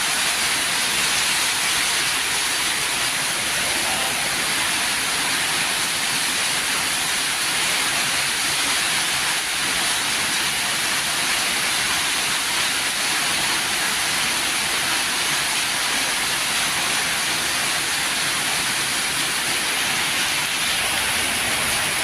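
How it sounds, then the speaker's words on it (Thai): Strong gusting wind during a heavy rainstorm at a roadside meatball stall roars loudly and continuously, a dense rushing hiss that fills the whole stretch with no voices. "ลมมาเป็นระลอกระลอกเลยครับผมวันนี้"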